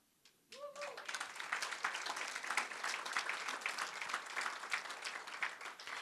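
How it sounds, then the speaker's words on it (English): After a brief quiet moment and a short tone, a lecture hall audience breaks into applause at a university legacy lecture, the clapping building quickly and continuing evenly throughout. "we'll all share a round of applause for you."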